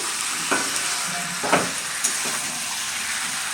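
Duck meat is stirred in a small, crowded wok, a steady sizzle with a few distinct scraping strokes of the spatula, loud and close with no talking.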